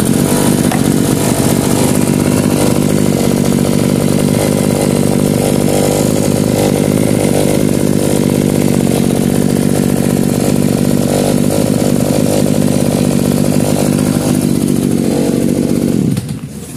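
Maruyama 2610 backpack brush cutter with its two-stroke engine running at a constant high buzzing speed, loud and close, unbroken for about sixteen seconds before cutting off abruptly at the end, with no talking.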